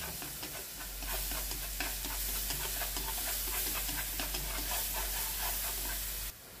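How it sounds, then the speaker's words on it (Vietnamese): Garlic frying in cooking oil in a pan, a steady, close crackling sizzle with light stirring ticks running unbroken for several seconds before dropping away, with no voices. "sẽ cho tỏi vào phi nó lên"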